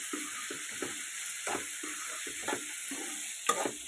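Sliced ivy gourd with curry leaves and green chillies frying in a pan, a continuous close hiss broken by regular scraping stirs roughly every half second.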